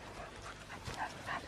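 A dog outdoors at a Cornwall beauty spot whimpers and pants softly, with short breathy huffs and faint high whines recurring through the moment, fairly quiet and close.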